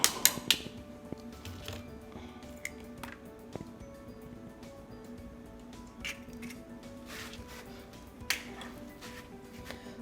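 A single egg being beaten in a bowl for zeera paratha: sharp clicks and taps of utensil against dish, several at the start and scattered after, over a quiet kitchen background.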